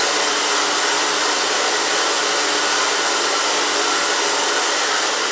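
A hair dryer blows continuously at close range while hair is dried with a big round brush during an A-line haircut, a loud, steady airy roar with no pauses.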